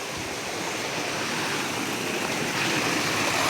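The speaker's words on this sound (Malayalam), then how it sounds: "ഞങ്ങൾ രസകരമായി ഒഴുകുന്ന ഈ വെള്ളം എൻ്റെ ശ്രദ്ധയിൽപ്പെട്ടു" Water flows in an outdoor stream at Matharikundu, Karuvarakundu, giving a steady rushing wash that stays even and moderately loud for the whole stretch, with no voices.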